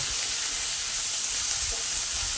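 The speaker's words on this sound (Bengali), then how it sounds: "এটাকে পাঁচ মিনিট ধরে ভালো করে নেড়ে নেড়ে ভাজা করে নেব" Potatoes frying in a pan with salt and turmeric while being stirred, a close, steady, hissing sizzle that fills the short stretch without a break.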